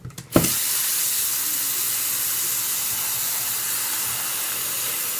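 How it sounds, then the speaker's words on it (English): A kitchen sink tap is turned on with a sharp initial splash, then gives a steady, loud rushing hiss of running water that continues unbroken to the end. "Then he decided to turn some water on."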